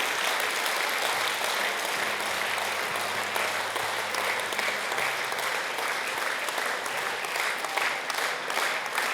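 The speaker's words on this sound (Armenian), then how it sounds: "Եկեք ծափահարենք սիրելի եկեղեցի։" A church congregation applauds in steady, sustained clapping throughout, with low keyboard notes sounding softly underneath.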